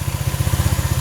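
A Honda Click 125 scooter engine runs at a steady idle, its rapid, even low putter loud and close with a regular pulsing rhythm and no talking.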